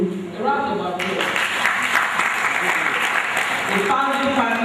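Audience applause at a distinguished lecture of a quantity surveyors' institute, a broad steady clapping sound swelling in after a spoken introduction and carrying on loudly, with a voice speaking at the start and again near the end.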